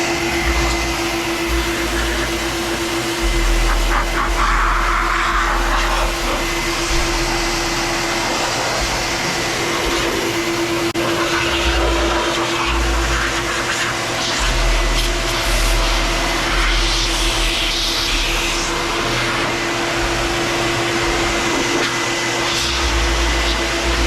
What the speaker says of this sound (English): What I'm gonna do right now, I'm gonna do the air dry feature.